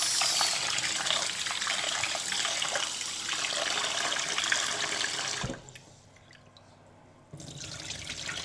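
Tap water runs steadily into a sink over medium coarse grain being rinsed, a continuous close splashing wash that cuts off sharply near the end, then resumes after a short quiet pause.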